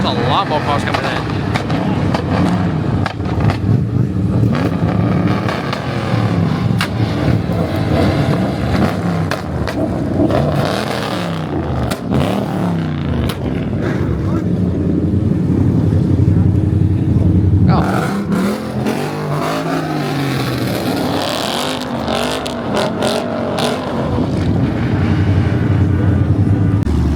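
Cars arriving at a car show, engines rumbling and revving continuously as they roll in, loud and close, with people talking throughout.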